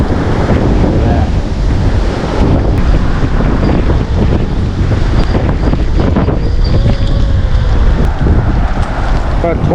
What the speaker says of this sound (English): it's got the real windy up here.